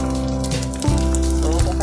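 Crispy leftover rice crust (tutong) frying in a pan, a close, loud, continuous sizzle and crackle with brief pops, under someone talking.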